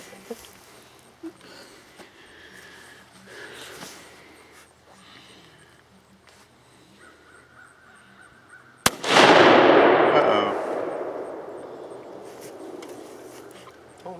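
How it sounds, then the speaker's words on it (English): A single loud rifle shot rings out outdoors at a gallon jug target, a sharp crack followed by a long rumbling decay, after several seconds of quiet background noise. "He's shooting one with a gallon jug on it."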